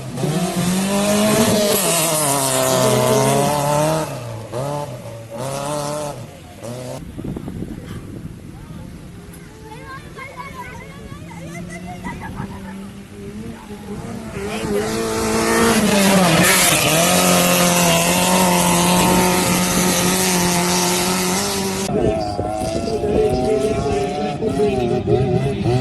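Gypsy rally cars in a Mysore mud race, engines revving hard and dropping as gears shift, a loud close roar that rises, falls and climbs again, with an announcer talking over it.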